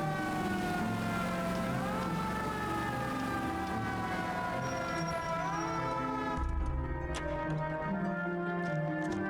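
An ambulance siren in the video game LA Noire, a loud wailing tone that rises and falls in slow sweeps, continuous over background engine noise.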